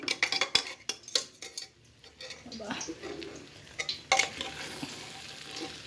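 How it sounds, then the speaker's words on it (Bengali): Rice frying and being stirred into braised spiced meat with potatoes for khichuri in a home kitchen: scraping spoon strokes, pan clatter and a soft sizzle, close and irregular, rising again toward the end. "এবার চালটা দিয়ে তার মধ্যে ভেজে নিচ্ছি"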